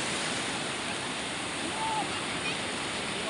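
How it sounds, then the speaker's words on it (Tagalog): Big ocean waves roll in at Bournemouth seafront, a steady broadband wash of surf that stays loud and continuous throughout without clear breaks. "nandyan na ulit malalaking alon"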